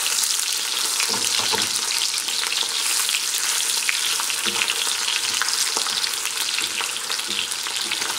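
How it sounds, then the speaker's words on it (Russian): Pork cracklings fry in hot fat with a loud, continuous sizzle, dotted with sharp crackles and pops, close by and without any talking. "шкварки жарятся у нас"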